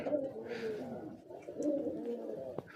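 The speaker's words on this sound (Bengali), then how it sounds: "দেখেন কত সুন্দর কবুতর" Domestic pigeons cooing inside a pigeon house, a steady low warbling chorus running throughout with a few brief sharper sounds, fairly close and continuous.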